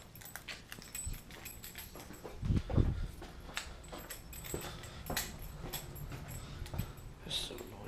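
A dog whimpers and whines softly in short bursts, close by, amid scattered rustling and handling noises.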